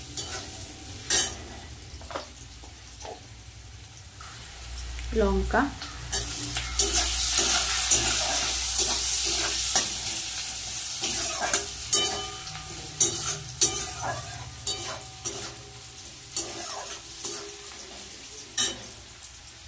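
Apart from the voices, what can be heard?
onion frying in pan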